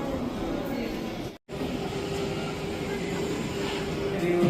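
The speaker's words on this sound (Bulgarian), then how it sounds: "Това си метрото." Loud Berlin U-Bahn train rumbling steadily through Alexanderplatz station, with a brief dropout and a rising high whine near the end.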